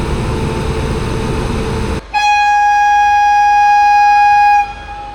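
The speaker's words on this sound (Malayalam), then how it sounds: "4:45 നമ്മൾ വെരാവലിൽ നിന്ന് പുറപ്പെടുകയായി." A WAP-7 electric locomotive hauling the early-morning Veraval–Rajkot passenger train sounds one long, loud, steady horn blast while departing Veraval station, after a low idling rumble.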